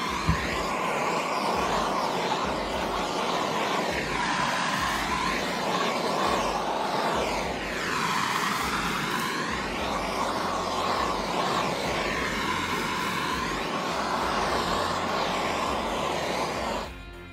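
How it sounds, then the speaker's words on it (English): A cordless heat gun warms decal glue on the rear window of a 2019 Ram Rebel, blowing with a steady loud roar that stays continuous for the whole stretch, with no one talking. "let's use the old cordless heat gun"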